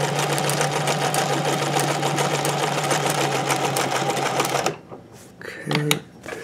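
A vintage sewing machine stitches scallops with a fast, steady mechanical whirr for several seconds, then stops, followed by a brief clicking adjustment, heard close up.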